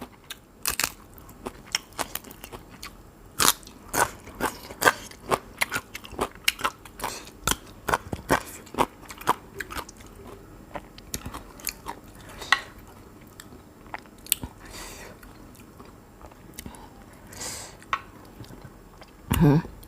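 Crisp crunchy bites and chewing repeat close to the mic, irregular snaps of chilies and fresh vegetables eaten with fermented shrimp, with quiet pauses between.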